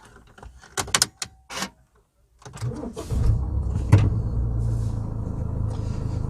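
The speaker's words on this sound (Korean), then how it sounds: "시동 한번 걸어보겠습니다" A 2013 Mini Cooper D, a 2.0-litre diesel three-door, cranks and catches after a few short clicks and knocks, then settles into a steady, close diesel idle rumble.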